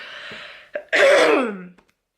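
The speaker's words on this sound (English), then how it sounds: "I'm gonna cough." A single harsh, breathy cough bursts out after a short exhale and a brief catch of breath, close and loud, then fades into silence.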